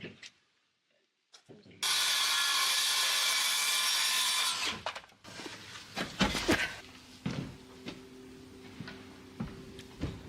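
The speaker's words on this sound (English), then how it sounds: "uses a circular saw for press cuts" Circular saw cutting an OSB board outdoors: a brief quiet start, then one loud, steady cut lasting about three seconds. Scattered knocks and handling clatter of the boards follow.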